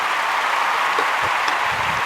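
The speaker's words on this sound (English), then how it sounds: "Round of applause for him." Event audience gives a round of applause, a continuous wash of clapping throughout two seconds, fairly loud and even, with a few low thumps near the end.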